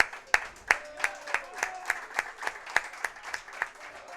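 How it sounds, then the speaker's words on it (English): An audience claps in a steady, spaced rhythm of roughly a dozen sharp, distinct claps, fairly close and moderately loud, honoring a Mineral Ridge football player who plays both sides of the ball. "Can we get a clap for that?"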